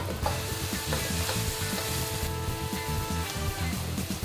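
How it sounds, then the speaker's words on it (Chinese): Pork belly and other ingredients stir-fry in a hot wok, with a loud, continuous sizzle and frequent clattering stirring strokes close by. "我们把其他的配料下进锅里面一起炒一炒"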